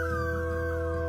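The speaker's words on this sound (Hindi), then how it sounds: "ऐसे ही एक रात दूर कुत्ते भौंक रहे थे।" Dogs howl in the distance at night, with a long, steady, drawn-out tone and no clear barks. Nobody speaks.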